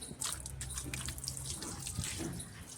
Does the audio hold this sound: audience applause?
no